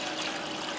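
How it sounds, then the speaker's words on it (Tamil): Rice-washing water poured into a vessel makes a steady, dense splashing rush that holds evenly throughout the short moment, close by with no talk over it. "அந்த தண்ணியை வந்து ஒரு பாத்திரத்தில் எடுத்து வச்சுக்கிறேன்"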